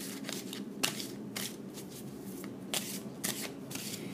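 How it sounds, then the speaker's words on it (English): Tarot cards being shuffled by hand, a quiet series of crisp riffling bursts in an irregular rhythm, close and soft, with no talking. "Let's pull some more cards and see how that comes out"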